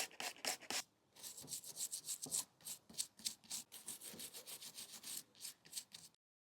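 A brush scrubs an azalea bonsai trunk in quick, rhythmic strokes, a faint close-up scratchy rubbing that repeats steadily for several seconds and then stops.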